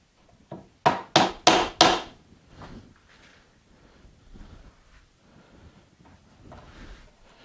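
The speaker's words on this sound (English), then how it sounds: "grab a hammer and some nails." Four sharp hammer strikes driving nails into wood in quick succession, followed by quieter knocking and handling sounds.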